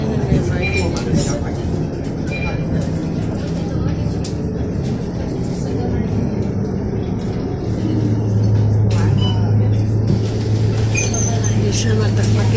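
A Singapore MRT metro train near Toa Payoh rumbles past with a steady low roar and rising hum, while people talk nearby.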